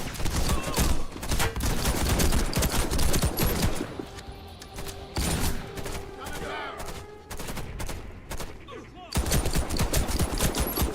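Rapid pistol gunfire in a video game, a dense run of loud shots that drops back briefly mid-clip before resuming at full intensity, with talk over the top.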